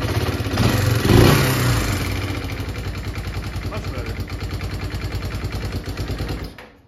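A pit quad engine idles after the choke is turned off, chugging in a steady mid-pitched rhythm following a brief louder rev, then cutting out at the end, heard close.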